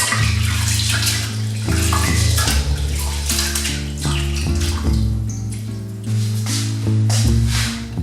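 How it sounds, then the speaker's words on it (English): Rice being washed by hand in water, with continuous sloshing and squishing under steady background music, close and fairly loud. "So you need to wash your rice very well."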